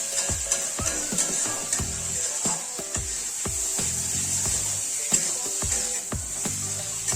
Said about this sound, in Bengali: টমেটোগুলো দিয়ে অল্প ভাজা ভাজা করে তারপরে জল দিয়ে দেব